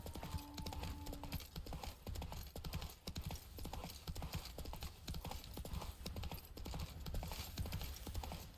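Hooves of the horse Roach clip-clop steadily at a fast gallop in The Witcher 3 video game, loud and continuous with game ambience beneath, with no talk over it.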